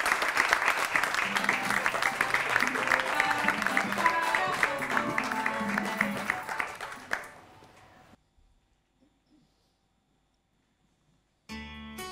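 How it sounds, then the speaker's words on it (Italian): Audience applause and clapping at a televised music festival show greets a performer, loud and sustained for about eight seconds with crowd noise and music underneath, then fading to near silence before music abruptly returns. "lo faccio con il vostro applauso"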